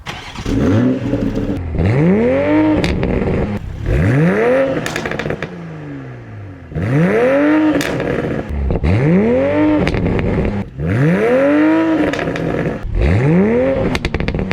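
A new Toyota Supra with two large exhaust pipes revs repeatedly: about six loud, rising engine surges in a steady rhythm, each one climbing sharply and dropping back, with no talking.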